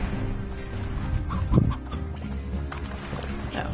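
Chickens clucking in the Slime Rancher video game, a few short clucks over steady game background sound, with one louder burst partway through and no voices.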